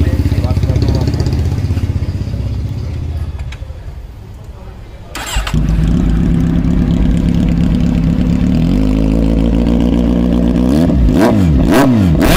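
A Kawasaki Z series superbike starts up close by. The engine cranks and catches into a loud idle after a brief quieter moment, then settles into a steady throb with a few sharp revs near the end.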